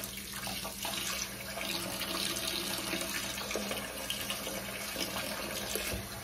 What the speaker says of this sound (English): then I will rinse this really well. Get all that color out.